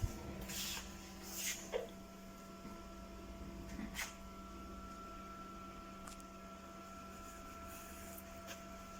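A Lexmark MX417 laser printer runs with a steady whir and hum, punctuated by a few brief clicks and clacks, moderately quiet and continuous throughout.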